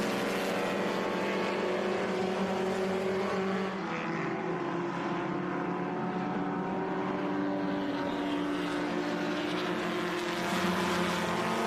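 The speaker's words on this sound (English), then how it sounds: "And another 1961 Abarth there coming through shot." A 1961 Carrera Abarth race car passing on the Laguna Seca track during qualifying, its engine droning loudly and continuously with rising and falling pitch amid other race cars.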